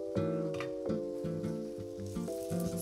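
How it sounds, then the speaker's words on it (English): Steady sizzling of guanciale frying in hot oil for amatriciana, close and fairly quiet, with a sustained melodic tone running underneath. "Love that sound of the sizzle."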